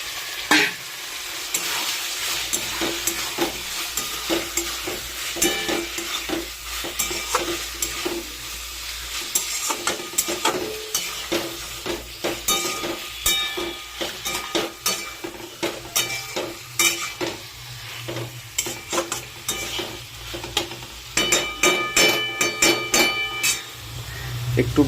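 Marinated chicken fries in a hot pan, with an ongoing sizzle and repeated sharp scraping clicks from stirring, close and fairly loud.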